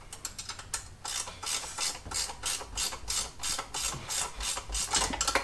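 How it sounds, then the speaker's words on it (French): A wrench ratchets as it tightens a motorcycle shock absorber bolt in a garage, with rapid clicking pulls repeated in regular strokes, close and fairly loud, with no voices. "Donc là, on vient tout simplement serrer l'amortisseur."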